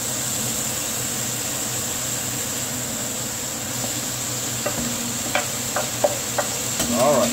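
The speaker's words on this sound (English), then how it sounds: "So yeah, the onion, garlic, celery, you want to cook that down." Onions, celery, garlic and carrots sizzling in a pot over high heat, a steady soft frying hiss with a few clinks of stirring toward the end.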